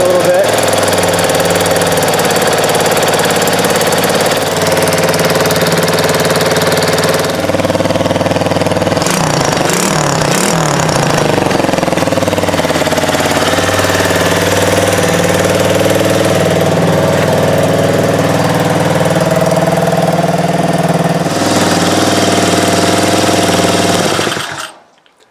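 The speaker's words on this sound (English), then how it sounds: "We need to turn this idle down a little bit." A homemade mini off-road mower's small engine idles steadily at close range, loud and rough with a knocking, chugging rhythm, before cutting off at the very end.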